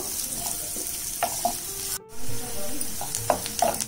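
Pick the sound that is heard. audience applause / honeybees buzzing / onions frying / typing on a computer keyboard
onions frying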